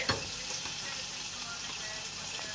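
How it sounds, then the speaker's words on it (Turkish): Steady, dense sizzling of mackerel frying in hot sunflower oil, continuous crackle throughout with no talking. "Balıkları kızartmaya başladık."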